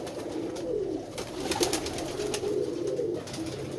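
A pigeon coos in a low, repeated warble, the soft rounded calls rising and falling close by over a faint steady background hiss, with no talking.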